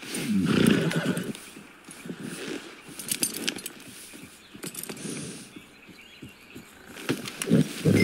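A horse in the Red Dead Redemption 2 video game trots with clip-clopping hooves and jangling tack, then gives a loud whinny near the start. Irregular hoofbeats continue close by.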